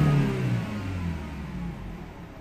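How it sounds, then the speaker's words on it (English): A BMW E90 320i engine revs up briefly after repair, then eases back to a steady mid-pitched hum. "Let's give you a few revs."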